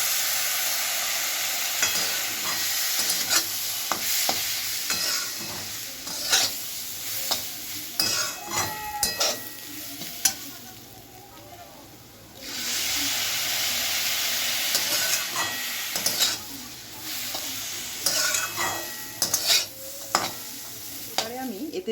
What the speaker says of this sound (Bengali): সুজিটাকে কিন্তু অল্প অল্প করে নাড়িয়ে যেতে হবে